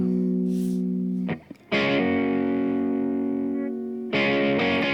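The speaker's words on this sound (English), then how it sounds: "So this is the Telecaster." Sustained distorted chords from a Telecaster electric guitar ring out loudly, cut briefly by a short muted gap, then a fresh chord is struck and rings again.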